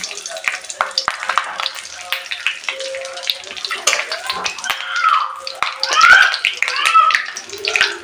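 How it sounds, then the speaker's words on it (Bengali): Bay leaf and whole garam masala spices fry in oil in a kadai, a close crackling sizzle with irregular spits and stirring. A voice talks over the later part. "এখন আমি কড়াইতে দিয়ে দেব তেজপাতা ফোড়ন আর দিয়ে দেব এখানে যে গোটা গরম মশলা রেখেছিলাম"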